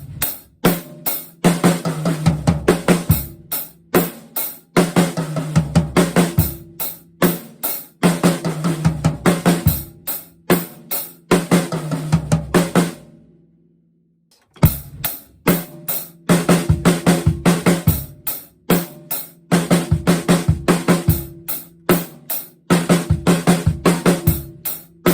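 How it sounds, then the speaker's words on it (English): A drum kit plays a 16th-note fill moving from snare to high tom to floor tom, close and loud. Rapid even strokes repeat in bursts, with a brief gap of silence midway. "it's going to be moving from the snare to the high tom to the floor tom"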